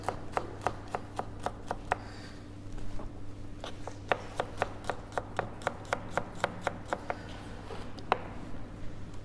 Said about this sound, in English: So just a couple of cloves. Peel that. Same again, slice.